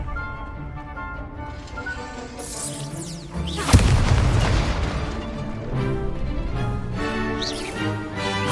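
A Confringo blast spell bursts in Hogwarts Legacy: one sharp, loud explosive boom midway, trailing into a rumbling crackle and whooshing debris over a bed of game music and combat ambience.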